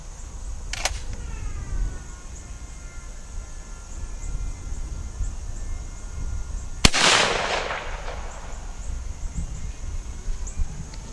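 A shotgun fires a Boss 3.5 duplex load through a Stoker 3020 long-range choke: one sharp, sudden blast with a decaying tail outdoors, preceded by a brief click and quiet background.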